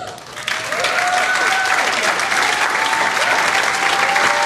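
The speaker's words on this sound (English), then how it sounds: "give yourself a round of applause" A room full of people breaks into loud, sustained applause and cheering that starts abruptly and holds steady.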